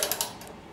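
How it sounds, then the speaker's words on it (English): Bolts being tightened on a Genesis EP-330 kit build, giving a quiet run of small ratcheting, mechanical clicks with a few sharper ticks near the start, close up and alone. "as I finish tightening up both of these bolts over here"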